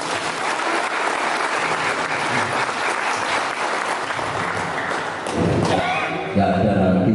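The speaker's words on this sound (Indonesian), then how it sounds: "Tepuk tangan ya," Loud, dense applause from a training-event audience of Indonesian martial-arts security trainees, sustained for several seconds and swelling near the end with a few heavier thuds mixed in.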